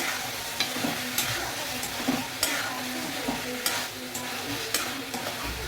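Banana flower frying in a pan for an Assamese fish curry, a steady sizzle with intermittent stirring scrapes and clicks at close range.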